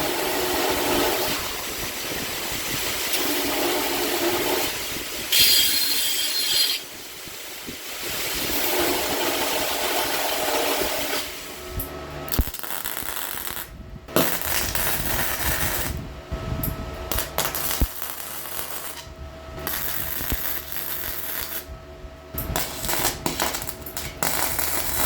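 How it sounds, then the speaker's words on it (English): Metal pieces for a charcoal forge fire pot are deburred with a power tool, giving a steady, harsh grinding roar that runs for the full length with brief dips and surges, up close and loud, with no talk. "I'm gonna deburr them real quick and we'll weld them up together."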